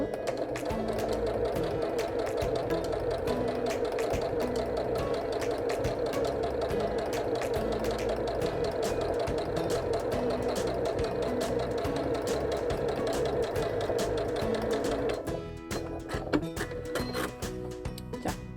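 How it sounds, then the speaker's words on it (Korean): Janome 780DC sewing machine stitching a straight seam with the O presser foot, a steady close mechanical whir of rapid needle strokes that runs for most of the span and then stops. "박음질 할게요."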